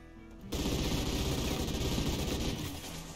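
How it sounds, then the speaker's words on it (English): Gunfire in the RimWorld video game: a dense, continuous rattle of rapid shots that starts abruptly after a short lead-in and holds steady, fairly quiet, with no talk. "He just shot the Argonian"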